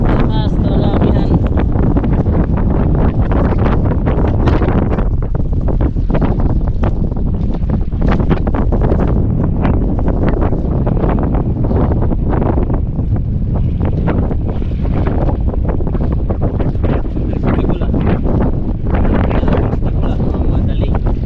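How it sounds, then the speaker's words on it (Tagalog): Strong northeast monsoon wind at sea around a fishing boat, roaring and buffeting the microphone loudly and continuously for the whole stretch, with no break in the gusty rush. "mataas talaga amihan"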